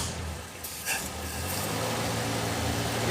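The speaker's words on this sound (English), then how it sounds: "It's already idling." A Jeep Wagoneer engine idles with a low, steady rumble, quiet and even throughout, with a brief clank partway through.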